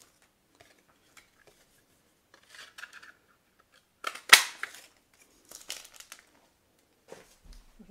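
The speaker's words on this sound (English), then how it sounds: "Then I'm using the Story Label Punch. I'm going to punch that out of gold foil." A Story Label Punch cutting a shape from gold foil: scattered quiet clicks and crinkles, one sharp louder crunch near the middle, then a few more soft clicking and rustling bursts in a quiet room.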